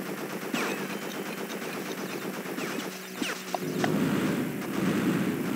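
Rapid machine-gun fire from a flying craft shooting blimps in the futuristic stage of Crash Bandicoot: Warped, a steady stream of shots over engine hum and game music, with a couple of explosion thumps near the end.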